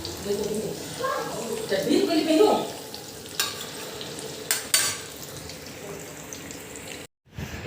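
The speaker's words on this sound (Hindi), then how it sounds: "अब यहाँ किचन में हम ठकुए को फ्राई कर रहे हैं" Thekua frying over medium heat in a pan in a home kitchen, with stirring and sizzling during the first few seconds, a few sharp clinks afterward, and a brief dropout near the end.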